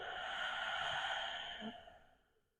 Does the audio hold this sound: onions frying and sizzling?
no